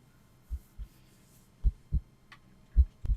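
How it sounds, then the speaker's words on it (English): Low, dull heartbeat thumps play as a sound effect in a spooky audio story, about six beats in loose pairs, close and clear against near silence. "You feel like you can hear your heartbeat."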